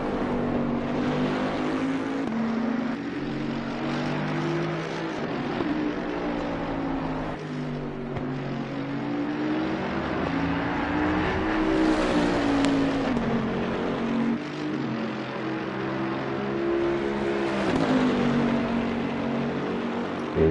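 GT3 race cars lapping the Spa circuit in a sim racing game, a continuous loud engine drone with rising and falling pitch as the cars accelerate and shift, several engines overlapping steadily throughout.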